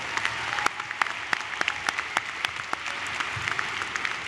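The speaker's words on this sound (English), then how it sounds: "Let's have one large round of applause for our salutatorians." Audience at a high school graduation ceremony applauding, a dense, steady patter of many hands clapping, moderately near, with no talk over it.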